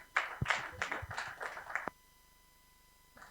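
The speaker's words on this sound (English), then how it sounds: "Please give him another round of applause." Applause from a conference audience after a speech at a legal reform conference, a burst of scattered clapping up close that stops abruptly, leaving near silence with a faint clap near the end.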